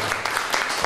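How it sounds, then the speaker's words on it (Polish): An audience at a cultural centre claps for a performing ensemble, a brief burst of dense, steady applause heard up close, with individual claps standing out in the mix. "Wielkie brawa dla wszystkich."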